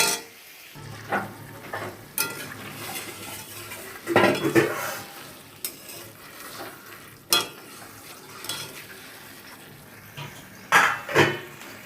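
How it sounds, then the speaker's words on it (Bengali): Marinated yogurt chicken is sautéed in a pan: a constant sizzle runs under repeated scraping and clinking bursts from a spatula stirring the meat, close and moderately loud. "তো দই চিকেনটা রান্না হচ্ছে, এই কষাচ্ছি আমি।"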